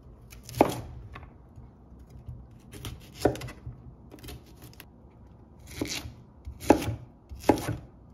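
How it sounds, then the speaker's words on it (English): Knife strikes through cauliflower florets on a cutting board, cutting them into even pieces: six or seven sharp, separate chops spaced irregularly and close by, with faint rustling between them. "So I'm going to cut these all about the same size so they can evenly cook."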